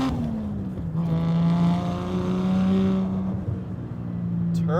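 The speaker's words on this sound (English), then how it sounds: "Turbo flutter." Turbocharged 1JZ engine in a Toyota MKII JZX100 drift car, droning loud and steady with rising harmonic pitch and a fluttering edge as the throttle shifts, close to the microphone with no voices.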